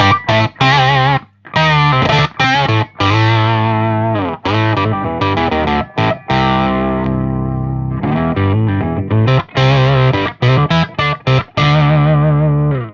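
Distorted electric guitar through a BOSS Super Octaver OC-3 in Oct2 mode plays chords and riffs with a thick, doubled octave tone, loud and close, with short pauses between phrases.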